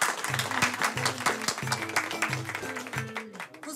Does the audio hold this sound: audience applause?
yes